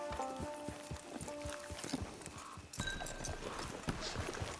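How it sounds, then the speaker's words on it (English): Horse hooves clip-clop steadily at a walk in the Red Dead Online video game, with a short whinny, amid busy, faint outdoor game ambience and brief tonal cues. "Get your horse."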